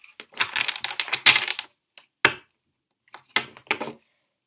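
Tarot cards are shuffled at close range in a dense flurry of papery clicks, followed by a few sparser snaps and short bursts, with no one talking.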